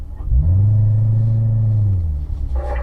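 A car on a driving-school exercise course accelerates hard at full throttle, its engine giving a loud, steady, close droning roar for nearly two seconds before easing off.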